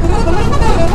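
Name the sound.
bus honking its horn on the road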